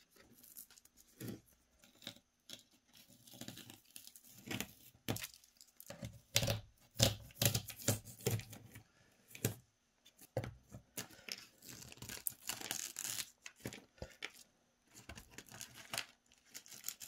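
Tape strips peeled up from a not-yet-hardened N scale model road, giving a run of uneven tearing and crackling rips in bursts with short pauses, close and fairly quiet, no talking.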